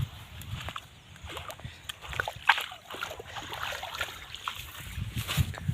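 Someone wades across a shallow stretch of water near a village orchard, with irregular close splashes and sloshing footsteps repeating over several seconds against an outdoor background.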